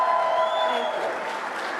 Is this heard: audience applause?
yes